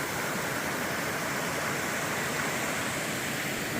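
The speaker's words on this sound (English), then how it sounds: "Series of little waterfalls." A series of small waterfalls on a little creek along the Appalachian Trail, under a footbridge, gives a steady, full, continuous rush of splashing water with no pauses or voices.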